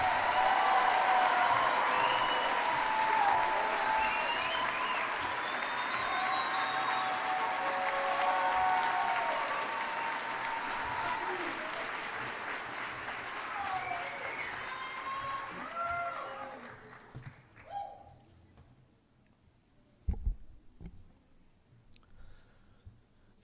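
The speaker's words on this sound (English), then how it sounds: "Let's give them all one final round of applause." Audience applause at a biomedical engineering commencement ceremony, sustained dense clapping with a few voices and cheers, tapering off after about fifteen seconds into scattered claps and quiet room noise.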